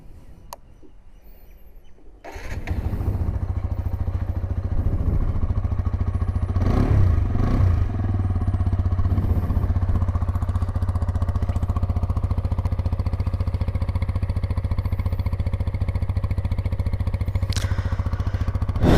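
A 2025 TVS Apache 160 2V motorcycle engine starts after a quiet moment, then settles into a steady, throbbing idle close by that carries on to the end.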